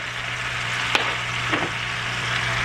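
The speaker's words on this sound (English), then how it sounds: "Now I will add the finely chopped tomatoes and also add the dry powdered spices" Chopped tomatoes and dry powdered spices (turmeric, chili, coriander, roasted cumin) sizzle in a frying pan for a Bengali egg and potato curry, a steady close frying hiss with a couple of brief stirring clinks and no talk.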